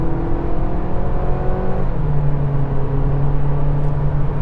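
Audi A3 Saloon engine revving as it accelerates, a steady close drone with a tone that drops and shifts partway through as the automatic gearbox changes gear, with continuous road noise.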